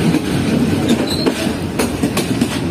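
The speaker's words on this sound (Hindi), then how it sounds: "track switch" Freight train rolling over a railway track switch on approach to a station, with steady rumbling wheel noise and repeated clickety-clack knocks from the rail joints, close and continuous.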